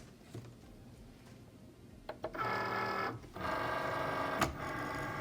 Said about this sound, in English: So on my Cricut Maker, I am going to choose premium vinyl, and I will get this cut out.